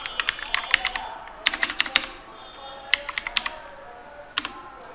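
Quick bursts of typing on a computer keyboard, clustered clicks in short runs separated by brief pauses, close and clear against a quiet room.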